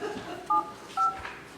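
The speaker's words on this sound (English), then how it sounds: "You'll have a very hard time dialing the phone." Three short beeping keypad tones come from a telephone being dialed during a review board meeting, spaced about half a second apart, with a muffled room murmur underneath.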